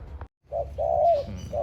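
A caged decoy songbird calls in a few short bursts of clear whistled notes, close and fairly loud, with a brief silent gap between the first and later calls.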